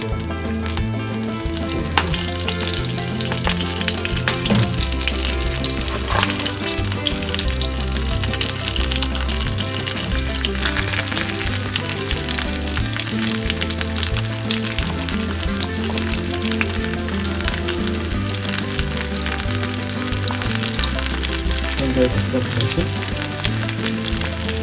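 Onions and mustard seeds fry in a pan with a steady, close sizzle that continues without a break, over a background of rhythmic music.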